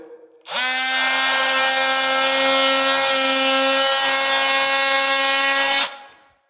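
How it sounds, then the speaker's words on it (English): An oscillating multi-tool cuts wood during a basement build, starting abruptly with a loud, steady buzzing drone that holds for about five seconds before stopping, heard close and alone. "my guys like a very, very beautiful tool that's super noisy, and that's actually using an oscillating tool"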